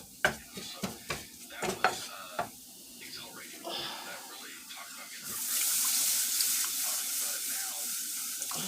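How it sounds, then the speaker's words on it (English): Water poured into thick bouillon base while cooking, with clinks and stirring knocks first, then a steady splashing pour, close and moderately loud. "So I'm going to just add water to this."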